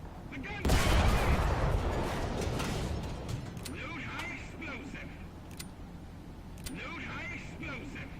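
Tank turret guns firing in the War Thunder video game, including a Panzer IV C, open with a loud boom that rolls into a sustained rumble, followed by lighter metallic pings and clatter.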